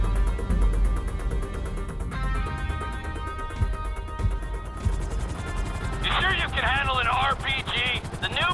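Helicopter rotor drone in the GTA V video game, a steady low mechanical hum running throughout beneath game music and shouted dialogue, with a bright chattering texture joining in the last few seconds.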